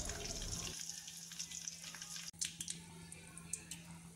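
Flowers and leaves fry in oil, crisping until brittle for a hair-fall remedy: a soft, continuous sizzle with light crackles and one brief sharp clink partway through.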